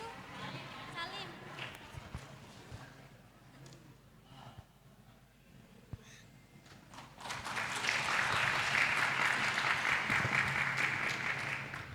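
Audience applause at an Indonesian religious gathering honouring graduates: a room of clapping swells loud and dense in the second half, following quieter murmuring and scattered sounds.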